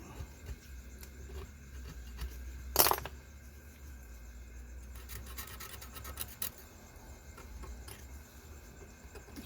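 Scrubbing grime from a No4 Mk1 rifle, close rasping and rubbing strokes with a sharp metallic clack early on, then a run of quick scratchy scrubs.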